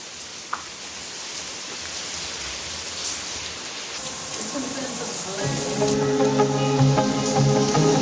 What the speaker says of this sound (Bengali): এখানে বৃষ্টির আওয়াজ হচ্ছে খুব